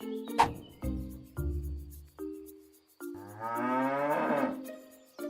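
Several loud, close cow moos in succession from an animated cartoon, long drawn-out lowing calls with short pauses between them, and no talking.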